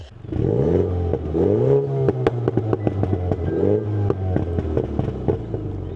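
A Mini Cooper S F56 fitted with an aftermarket exhaust revs up and down in sport mode, its engine note rising and falling with sharp popping crackles between revs, close and loud.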